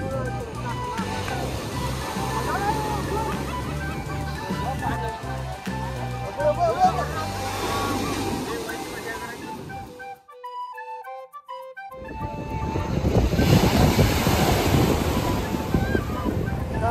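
Sea waves wash onto Kunkeshwar beach in Devgad on the Konkan coast, a continuous roaring surf with strong wind buffeting the microphone. Music plays through the first half, there is a brief quiet gap, and then the surf swells louder again.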